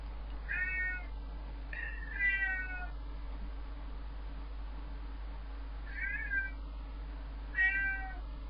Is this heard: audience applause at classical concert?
no